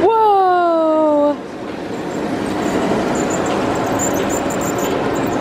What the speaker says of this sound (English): Here comes the circus train. Here it comes.